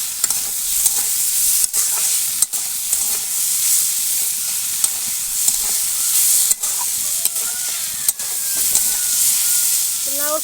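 Bottle gourd peels with chopped onion fry loudly in a pan, a steady close sizzle broken by repeated scraping stirs of a spatula throughout.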